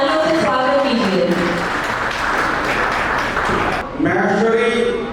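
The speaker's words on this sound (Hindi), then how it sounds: "जोरदार तालियों से स्वागत कीजिए" An audience at a Govardhan Puja celebration breaks into a burst of applause lasting a few seconds, framed by a voice speaking over a microphone before and after.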